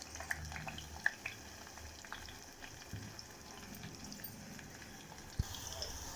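Sliced onions, two medium ones, hit hot oil where mustard seeds have already popped, giving a soft, steady sizzle and bubbling hiss with a few faint clicks, quiet and close, with no voices.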